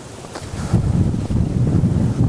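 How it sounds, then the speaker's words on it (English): Strong gusty wind buffets the microphone outdoors, a continuous low rumbling roar that swells louder after the first moments and stays steady, with no voices. "Wind is just ridiculous right now."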